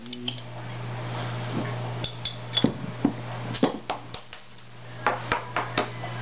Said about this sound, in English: Using my Stella Artois glass.